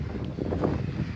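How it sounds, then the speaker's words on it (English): Wind gusts across a marina where fishing boats are docked, a short, steady low rumble of buffeting against the microphone, with no voices. "Sorry for the wind, it's just kind of a windy day"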